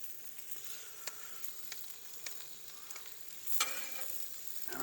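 Tortillas for deer neck birria tacos frying in hot lard, a steady quiet sizzle with occasional pops and a brief louder crackle near the end, no voices.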